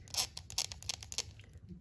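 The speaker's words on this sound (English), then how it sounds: "ball peg is squeaky for some reason" Squeaky ball-peg neck joint on a Masters of the Universe Origins Prince Adam action figure, turned back and forth in a run of short, close creaking squeaks with a quiet tail.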